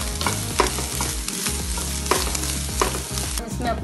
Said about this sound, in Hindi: फ्रेश हरा धनिया डालकर एक बार हल्के से थोड़ा सॉटे करेंगे